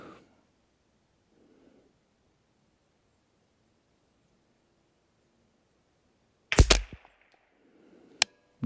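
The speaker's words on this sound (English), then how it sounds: "we're gonna do a 10 shot group at 100 on the top left target" A JP15-22 rifle fired at a target 100 yards away: near-silence, then a sharp close report, a second crack about a second and a half later, and faint rustling around the shots.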